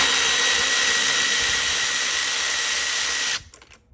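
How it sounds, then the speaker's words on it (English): A cordless ratchet runs in one steady, loud whir while taking out spark plugs on an Infiniti G37 with a turbo setup. It stops abruptly near the end. "If you guys don't have one of these, the cordless ratchets, one of the best tools you can have for"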